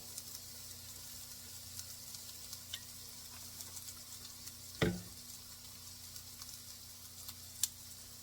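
Diced yellow onion frying in olive oil in a pan, a steady soft sizzle with a faint crackle throughout and one brief louder clatter midway, no talking.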